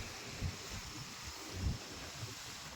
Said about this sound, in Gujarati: ખરેખર આજે પવન બહુ જબરજસ્ત છે.